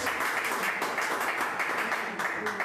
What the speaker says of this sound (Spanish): Eso se merece un aplauso al Señor